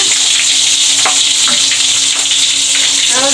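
Garlic sizzling in hot oil in a pan for Bihari-style egg curry, a steady bright crackling hiss with a few sharp pops and spatters, close and continuous.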